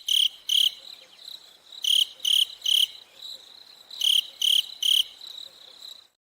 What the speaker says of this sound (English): Oh, did I hear crickets?